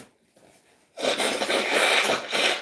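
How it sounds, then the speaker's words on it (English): A person blowing their nose during a live Q&A stream: a quiet pause, then a loud, sustained nasal honk and snort lasting well over a second, close to the mic. "Just blow my nose."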